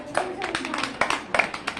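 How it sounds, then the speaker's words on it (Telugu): Children clapping in a classroom, a quick burst of uneven, overlapping claps close by, with a voice talking over them. "అందరూ చప్పట్లు కొట్టండి, క్లాప్స్"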